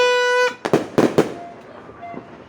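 New Year's fireworks bursting in a quick cluster of three or four sharp booms, preceded by a sustained tonal whistle, with faint crackle trailing off afterward.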